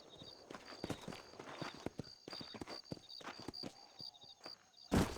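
Horse hooves clip-clop at a walking pace in the Western video game Red Dead Redemption, with an uneven run of clear, close hoof strikes and a louder thump near the end.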